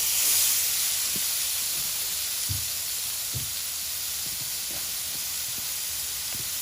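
Steaks sizzling on a Blackstone griddle outdoors, a loud, steady hiss of frying fat with occasional soft pops and crackles underneath.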